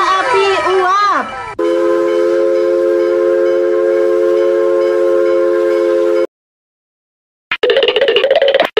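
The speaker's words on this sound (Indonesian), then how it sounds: "Kereta api uap." A steam train's whistle blows loud and sustained near by, with rail noise, a sudden cutoff to silence, then the whistle sounding again briefly.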